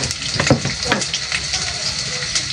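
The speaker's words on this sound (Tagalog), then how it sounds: "igigisa na rin po natin itong sardinas" Sardines sautéing in a hot pan, a steady bright sizzle and crackle with occasional stirring scrapes, close and continuous.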